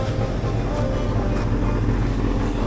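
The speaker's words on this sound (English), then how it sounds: "I'm just doing a test with it idling, because sometimes they will overheat when idling." A Rambler car engine idles while being tested for overheating, giving a loud, steady low rumble with broadband hiss and no change in pace over a few seconds, close to the microphone.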